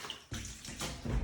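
Water pours into a mop bucket during end-of-lease shower screen cleaning, a loud broadband splashing gush that swells in surges over a short span, close and without talk.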